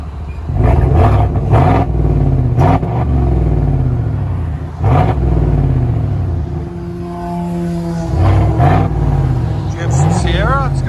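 A 2019 GMC Sierra 5.3L SLE with a lift kit, dual exhaust and muffler delete rumbles deeply and revs in several loud surges, each dropping back to a throaty idle. A voice talks briefly over the engine.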